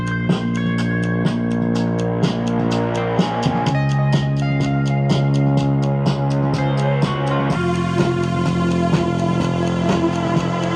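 An electronic beat for a comic soundtrack pounds along with steady rapid drum hits over layered synth tones, the arrangement shifting and thickening partway through, loud and with no talking.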